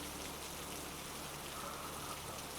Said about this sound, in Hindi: बारिश उसके छाते पर गिर रही थी